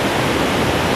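A waterfall in the Kargah Valley of northern Pakistan roars with a dense, loud, steady rush of falling water, close and unbroken.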